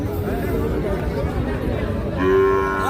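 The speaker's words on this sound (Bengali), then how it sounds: "আমরা এই যে শুরুতে একটা বেশ সুন্দর শাহিহল সার বাছুর দেখছি" Sahiwal bull calves at a busy cattle market give a low moo near the end, over a steady crowd babble and talk.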